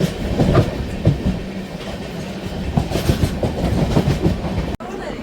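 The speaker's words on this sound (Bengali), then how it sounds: "আর আমাদের ট্রেন চলেছে তার নিজস্ব গতিবেগে, নিজস্ব পথে, নিজস্ব ছন্দে।" An express train running through Jharkhand rattles steadily on its tracks, heard from inside a carriage with a continuous loud rumble and rhythmic clickety-clack of the wheels, ending with a sudden cut.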